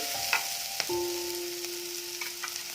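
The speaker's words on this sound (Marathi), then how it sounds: "हे बिरड आपण चांगलं परतून घेतलं आहे." Onion and birad field beans sauté in a pan, a quiet, soft sizzle with a few light stirring clicks, accompanied by a faint steady tonal hum.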